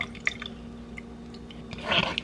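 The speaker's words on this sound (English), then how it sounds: "I just keep pressing until I stop hearing juice drip out." Juice drips from pressed cranberries in sparse, small plinks over a quiet background, ending in a brief wet squishing sound.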